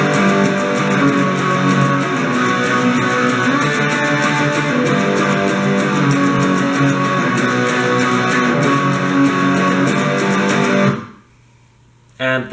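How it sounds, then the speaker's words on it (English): An electric guitar plays the chorus riff of a song with a distorted, driving tone, loud and close with dense rhythmic strumming for about eleven seconds before cutting off abruptly. "first we're going to do the riff the first guitar's playing"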